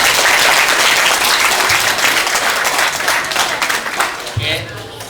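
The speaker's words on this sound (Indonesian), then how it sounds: "tepuk tangan untuk mereka semua" An audience at a school motivational training session applauds, dense sustained clapping that stays loud for most of the stretch and then thins out and fades toward the end.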